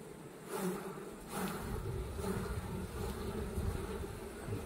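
Honeybees buzz around open hives during a honey extraction, a dense steady drone that swells and fades in waves, close and continuous with no speech.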